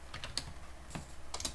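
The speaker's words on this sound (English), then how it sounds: "So I'm just gonna type Ibrahim" A handful of light keystrokes on a computer keyboard as a name is typed, quiet and uneven in a small cluster, then a pause and two more taps.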